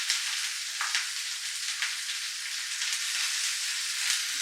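Onion and green chili frying in hot oil with mustard seeds for oats upma, a steady, fairly loud sizzle and crackle running continuously throughout, with no voices.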